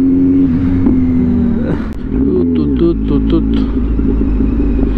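A cheap Nitro motorbike engine runs loud and close, its low throbbing drone swelling and dipping as the throttle is revved, with some voice sounds over it.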